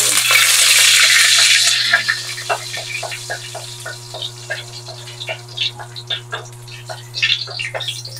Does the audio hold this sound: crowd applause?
no